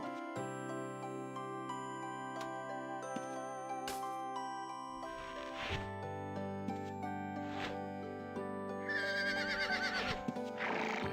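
A horse whinnies in the online role-playing game Ultima Online, a short neigh near the end that rises over steady game music with chiming tones and soft jingles.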